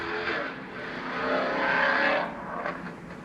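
A car fitted with loud aftermarket exhaust cans roars past, its raspy exhaust note swelling to a peak and then fading away.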